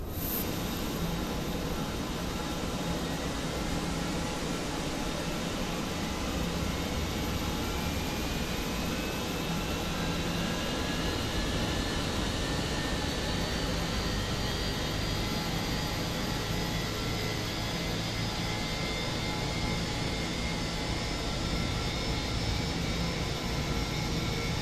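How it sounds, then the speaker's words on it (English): A jet airliner's engine 1 spooling up while parked near the stand, a steady loud whine with rising tones over a broad, even roar that holds for the whole stretch. "Start engine 1."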